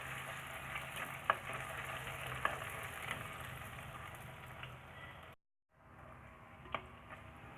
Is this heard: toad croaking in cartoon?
no